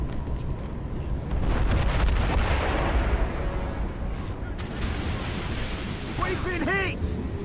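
Cannon fire strikes a sailing ship in the video game Assassin's Creed Rogue, a loud sustained rumble of booms and crashing water with a brief ringing tail near the end.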